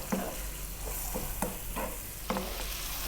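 Onions and garlic frying with salt and pepper in a pan over medium heat, giving a steady close sizzle broken by a few soft stirring scrapes, with no talking.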